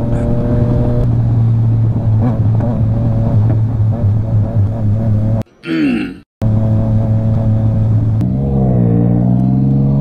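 A Ducati Hypermotard motorcycle cruises a canyon road, its engine a steady close drone with a short break in the middle and a shift in pitch near the end.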